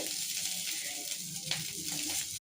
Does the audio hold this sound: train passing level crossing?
no